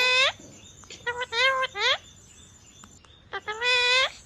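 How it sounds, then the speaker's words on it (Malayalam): A green-feathered parrot makes a series of harsh, tonal, speech-like squawks and calls, close and clear, in several short bursts separated by quiet pauses. "കണ്ടോ തത്തമ്മ സംസാരിക്കുന്നത്"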